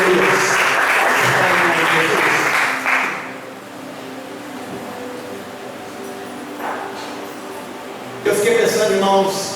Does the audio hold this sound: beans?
no